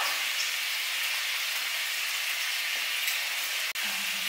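Vegan bratwurst frying in a pan, a steady, close hiss of sizzling fat running continuously with a brief break near the end.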